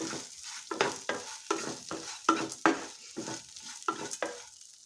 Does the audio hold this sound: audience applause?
no